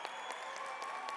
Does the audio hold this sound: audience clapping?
yes